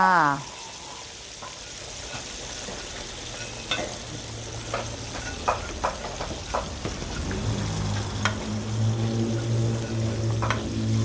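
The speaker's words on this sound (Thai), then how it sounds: "ทอดให้กรอบก่อน ค่อยอร่อยค่ะ" Catfish pieces frying in hot oil in a home kitchen until crispy, a steady sizzling crackle with occasional stirring clatters and scrapes, while someone talks over it.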